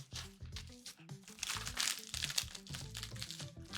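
Tissue paper crinkled and crumpled up close, a busy run of dry rustling and crunching that swells and fades over a few seconds, with faint voices underneath.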